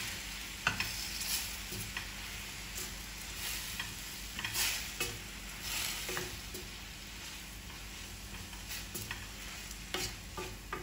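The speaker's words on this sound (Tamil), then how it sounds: "நல்லா வதங்க விடணும்." A pizza topping mixture seasoned with oregano powder sautés in a pan, giving a steady soft sizzle broken by occasional stirring scrapes and clinks, close and fairly quiet.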